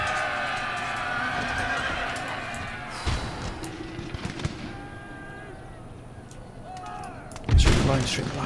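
Artillery fire support in an Empire: Total War battle, heavy cannon booms mixed with neighing horses and clip-clopping hooves, with a big close blast near the end amid a busy battlefield din.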